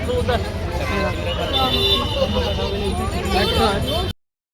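An auto rickshaw rides through traffic, its engine rumbling steadily amid road noise and passing vehicles while people talk throughout, ending in abrupt silence.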